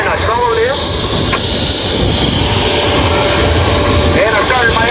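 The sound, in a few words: 1956 Piper Super Cub P-18A airplane engine in flight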